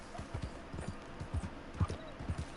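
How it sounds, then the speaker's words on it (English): Horse hooves clip-clop at a steady riding gait in Red Dead Redemption 2, fairly faint with a regular rhythm and no voices over them. "well, riding a horse. It's not going to be as fast as a car, obviously."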